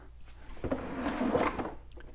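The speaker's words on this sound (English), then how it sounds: "You just wanna open that little door up like that." The small plastic access door on a Ryobi 18-inch electric chainsaw's carry case, model RY40508, gives a short clack and rattle as it swings open, close and fairly quiet.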